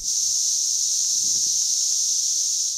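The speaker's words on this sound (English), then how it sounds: "The noise made by the cicadas is among the loudest of all insect-produced sounds." A loud, steady, high-pitched periodical cicada chorus droning without a break, dense and unvarying from start to end.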